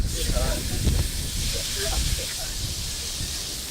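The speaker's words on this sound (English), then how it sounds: "Oh, listen to that sizzle." A steady broad hiss of something frying in a hot pan continues throughout, with a voice talking faintly underneath.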